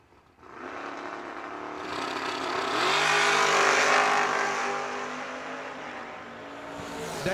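Drag racing cars, including a Camaro, roaring down the strip, engine noise swelling to a loud rushing peak then fading, with a rising revving tone and another burst of engine sound at the end.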